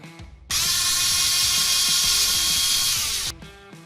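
A power driver whirs loudly for about three seconds, with ratcheting clicks before and after, as T20 Torx screws come out of the AC control on a 1999 Kenworth W900L truck. No talk.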